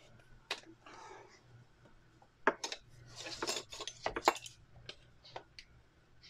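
A set of measuring spoons, including a quarter-teaspoon, clinks in a kitchen while honey lavender spa mud bars are being made. Light metallic taps and jangles come in scattered bursts, close by, over a low steady hum.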